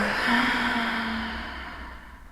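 One slow, deep breath out through the mouth while lying on the back in a yoga relaxation pose: breathy and close, fading away over about two seconds.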